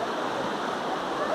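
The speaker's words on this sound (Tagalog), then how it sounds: "pinakaganda yung ilog dito" A river flows steadily at Calantas in Calaca, Batangas, making a close, even rush of water with soft gurgles and no pauses.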